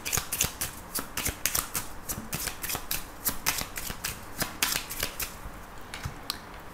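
A 32-card deck is shuffled close by in a continuous series of quick, crisp riffling flicks and slaps that keep a steady, busy rhythm, with no talking.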